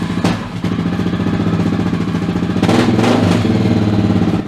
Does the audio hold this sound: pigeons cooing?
no